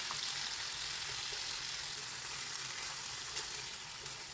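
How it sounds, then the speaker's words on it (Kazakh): Constant hiss and crackle of chicken frying in hot oil, even and unbroken throughout, with no voices. "Етіміз қуырылып жатқан сәтте"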